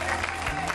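Studio audience applause on a Catalan television show, a steady dense patter of clapping filling the short moment with no one speaking over it.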